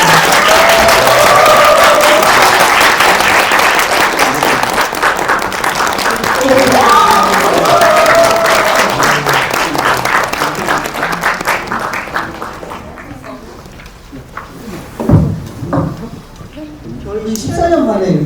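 A film talk audience welcoming guests with loud, sustained applause from a large crowd, whose clapping thins out and fades toward the end, where a voice begins speaking over the last scattered claps.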